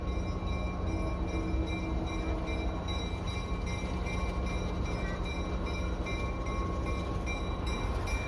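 A train rolls past at the Danbury Railroad Museum, a steady, continuous rumble with a faint tonal hum that holds evenly throughout, close by and with no talking.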